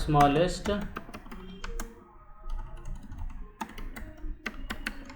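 Computer keyboard being typed on while entering data into an Excel spreadsheet, with rapid clustered keystrokes in bursts and a voice speaking at times.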